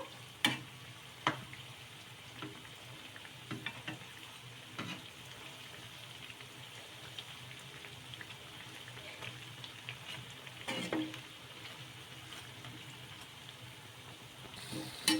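Jowar bondas fry in oil over medium to high flame, giving a soft, steady sizzle, with occasional clicks and scrapes as they are turned.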